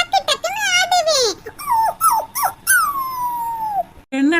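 A cartoon character's voice imitates a dog, giving a string of whining yips and rising-and-falling wails that end in a long drawn-out howl, loud and close.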